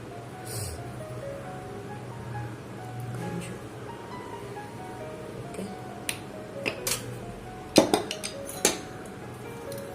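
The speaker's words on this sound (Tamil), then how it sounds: "போட்டு நல்லா மிக்ஸ் பண்ணி விட்டுடலாம்" Spoon clinking and scraping in a bowl as soaked sabudana is mixed with roasted peanut powder and salt, soft stirring at first, then a cluster of sharper metallic clinks near the end.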